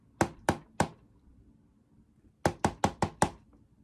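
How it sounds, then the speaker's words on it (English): Knocking on a wooden door: a group of three sharp raps, a short pause, then five quicker raps, close and clear with no talk. "Joseph knocked on the door."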